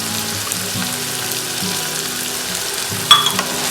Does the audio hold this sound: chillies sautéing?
yes